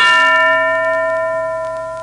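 A single bell struck once, sounding alone as a close, loud clang whose bright ringing tone decays slowly.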